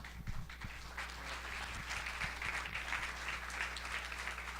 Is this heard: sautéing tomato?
no